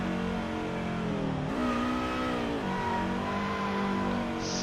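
An engine revs in a racing video game car, loud and steady. The pitch climbs, dips at a gear change, then climbs again across several seconds, with no talking.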